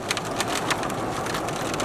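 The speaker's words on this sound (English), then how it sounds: "It's raining." Steady rain falling outdoors, a dense close hiss with scattered patters, heard alone with no talking.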